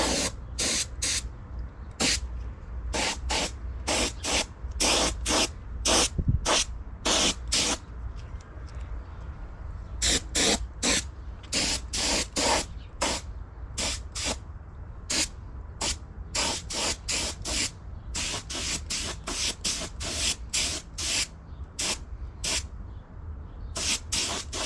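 An aerosol can sprays paint onto a side cover for a 1972 Honda CB500 Four motorcycle in quick, close hissing bursts of varying length, separated by short pauses, repeated steadily throughout.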